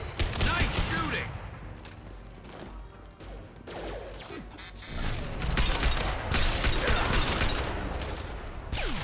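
Gunfire in a firefight in Mass Effect Legendary Edition, with dense, overlapping bursts of shots, impacts and crashes throughout. Game voices are heard under the shooting.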